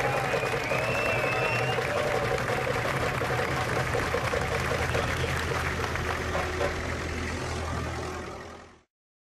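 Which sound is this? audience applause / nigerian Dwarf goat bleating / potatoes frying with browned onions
audience applause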